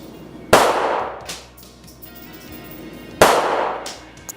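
Aimed pistol shots at a target on a police shooting range crack out loud and near, two sharp reports spaced a few seconds apart, each with a ringing decay and a smaller knock between them.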